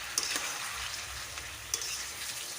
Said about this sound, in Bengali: এতে আমি 4টে বড় সাইজের পেঁয়াজ কুচি করে রেখেছি, সেগুলো আমি এর মধ্যে দিয়ে দেবো। ভালো করে আবারও নাড়াচাড়া করতে হবে।